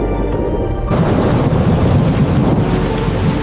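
Heavy rain pours steadily with a deep rumbling thunder roll running underneath, loud and continuous, the hiss of rainfall broadening sharply after the first second into a dense, full storm.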